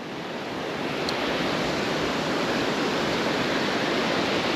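A waterfall on the River Carnoch in the Scottish Highlands gives a constant broad rush of falling water, loud and steady throughout with no voices.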